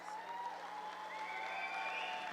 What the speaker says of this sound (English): It's perfectly all right to clap for them.